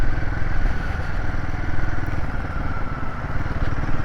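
Royal Enfield Himalayan 450 motorcycle riding along, with its steady engine drone and road rumble holding close and loud throughout without any break.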